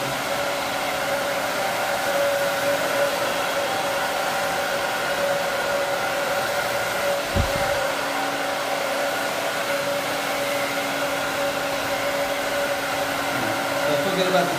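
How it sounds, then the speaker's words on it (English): A steady blow dryer roars continuously at close range while drying hair, with a brief low thump partway through. "What kind of blow dryer is it?"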